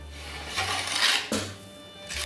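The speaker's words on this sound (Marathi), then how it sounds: "आता हा पुन्हा एकदा खवा हलवून घेतला जातो" Roasted khoa with cardamom is scraped and stirred in a metal pan while making pedha. The scraping comes close and moderately loud in a few short sweeps, with no talk.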